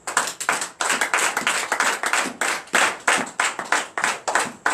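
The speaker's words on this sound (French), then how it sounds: "Ça demande d'être applaudi." A church congregation at a night deliverance and prophecy service claps in a fast, steady rhythm, many hands striking together in loud repeated bursts close by for several seconds.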